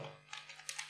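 Quick keystrokes on a computer keyboard while code is typed, a handful of light clicks with uneven gaps, close and fairly quiet with no voices.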